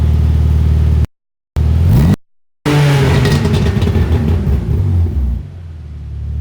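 Tuned BMW 3 Series E46 with exhaust modifications revving hard, loud engine roar broken by sudden cuts and sharp pops and crackles from the exhaust, close by.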